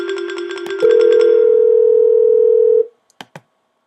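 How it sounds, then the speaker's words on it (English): Google Voice call tone on a test call, a loud steady electronic beep held for about two seconds after a short pulsing tone, followed by a couple of brief clicks. "Please state your name after the tone."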